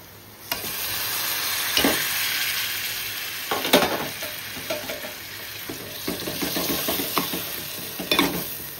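Cleaned clams with spices fry in a pan with a steady close sizzle, while a spatula stirs them in repeated scraping strokes and occasional clatters over the hiss.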